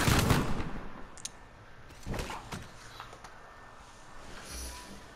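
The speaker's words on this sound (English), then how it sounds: "The sound of gunfire." Gunfire in the video game Uncharted 4: A Thief's End, a heavy burst of shots at the start, then scattered bangs and cracks of varying loudness over quiet background ambience.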